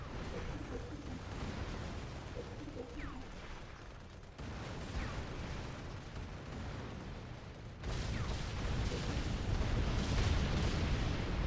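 Cobra units shelling in the Halo Wars strategy game, a dense, continuous rumble of artillery impacts and explosions that swells louder toward the end, with no talking.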